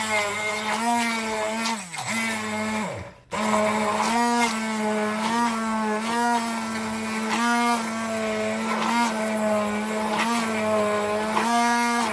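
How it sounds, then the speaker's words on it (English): A hand blender whirs steadily at close range, its motor pitch wavering as it churns cucumber juice with mint, ginger and lime, with a brief stop and restart partway through. "I'm gonna use my hand blender"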